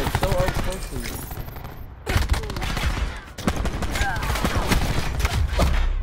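Dense automatic and burst gunfire from a multiplayer shooter game in a Hardpoint match, rapid close shots filling the clip with brief gaps, while players talk over it.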